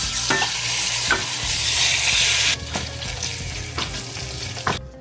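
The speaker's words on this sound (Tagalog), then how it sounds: "Sear natin ang chicken" Chicken sears in hot cooking oil in a pan with a loud, dense sizzle at first that turns quieter and patchier midway, punctuated by several knocks and stirring scrapes close by, no talking.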